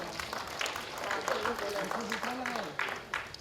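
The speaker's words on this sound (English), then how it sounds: "So with a huge round of applause, I welcome Mr. Himanshu Sinha." An awards ceremony audience claps to welcome a speaker, a continuous spread of applause running beneath a person talking.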